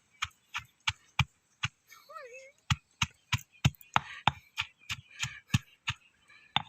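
Curry paste for a rustic Thai curry pounded by hand in a mortar: steady, close, fairly loud thuds about three per second, with a brief voice heard in a short pause.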